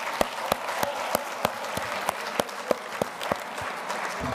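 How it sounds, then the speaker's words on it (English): A small audience at an alumni reunion breakfast claps in a sparse, slow round of distinct individual claps, fairly quiet and evenly spaced. "Let's give Ty Carr a round of applause."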